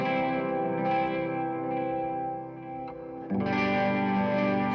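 Distorted electric guitar chord rings out steadily, then a brighter, sharper chord strikes in with a noticeably crisper, more trebly tone as the highs are boosted by EQ.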